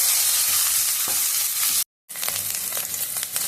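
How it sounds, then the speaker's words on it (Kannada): Onions with ginger garlic paste frying in a pan, a bright continuous sizzle with occasional stirring scrapes, loud and close, cut by a brief silent gap partway through. "ಶುಂಠಿ ಬೆಳ್ಳುಳ್ಳಿ ಪೇಸ್ಟ್ ಹಾಕ್ತಾ ಇದ್ದೀನಿ. ಮತ್ತು ಚೆನ್ನಾಗಿ ಮಿಕ್ಸ್ ಮಾಡಿಕೊಂಡು ಬೇಯಿಸ್ಕೊಳ್ಳೋಣ."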